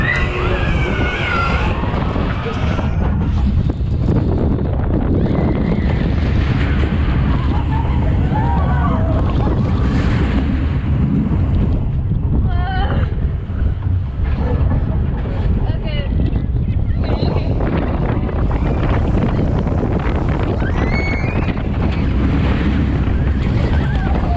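Riding the Diamondback roller coaster at Six Flags Frontier City, with loud, constant wind roar buffeting the microphone throughout and voices heard over the rush.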